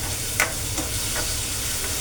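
Onions frying in a pan; an even, moderate sizzle with a couple of brief scraping ticks from stirring, no voices.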